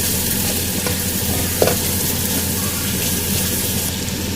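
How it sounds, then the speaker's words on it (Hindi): Chickpea paste fries with spices in a pan for chana masala, a steady close sizzle with stirring scrapes and one brief clink, unbroken throughout and no speech. "और यहाँ मैं अब शामिल कर रही हूँ इसमें छोलों का पेस्ट अपना, और इसको भी इस मसाले के साथ मैं अच्छे से भून लूँगी।"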